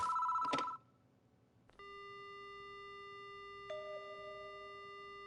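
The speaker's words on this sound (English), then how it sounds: "The phone begins to ring." A short electronic ring from a video game telephone sounds at the start, followed by a steady dial tone that shifts pitch partway through, with no talking.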